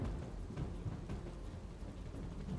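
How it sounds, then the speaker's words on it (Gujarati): A swollen river in the Tapi district near Nizar, Gujarat, rushes in flood after heavy rain, a faint, steady broadband roar of churning water with no voices over it. "તો અહીંયા જોઈ શકાય છે કે નદીનો ધસમસતો પ્રવાહ વહી રહ્યો છે"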